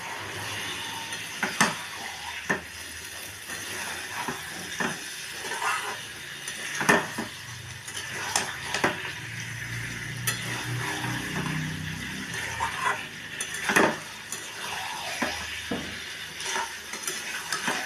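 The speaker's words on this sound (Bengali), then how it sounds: "আলুটাকে ছেড়ে দিলাম, মটরশুঁটি আলু, এবারে মশলা দিয়ে এটাকে কষাবো।" Potatoes and peas frying and being stirred with spices in a pan, spoon or spatula scraping and clinking in scattered knocks over a steady low sizzle, close by with no talking.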